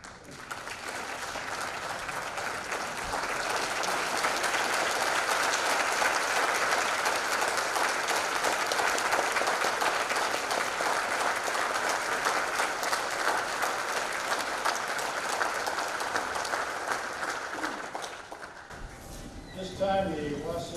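A crowd at an outdoor Memorial Day ceremony gives a long, sustained round of applause that swells and holds steady before fading out, followed by brief talking at the end.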